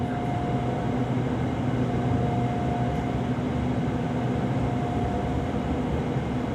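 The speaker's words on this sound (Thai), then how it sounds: "แล้วก็มีขบวนรถสายลังสิต ออกพร้อมกับขบวนรถสายตลิ่งชันด้วยนะฮะ" SRT Red Line electric trains pull out of a station on Thailand's western line. A steady rumbling drone carries a faint whining tone throughout, continuous and moderately loud.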